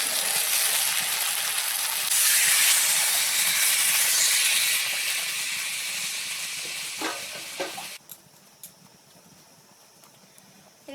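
Water goes into spices frying with taro and prawns, raising a loud, close, fierce sizzle and hiss that fades to a quieter simmer, followed by a few light clinks of utensils.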